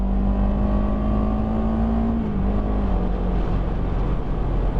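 A 2023 CFMoto CLX 700 motorcycle engine hums loudly and steadily up close while riding, its pitch dipping slightly midway as the bike turns, with wind rush underneath.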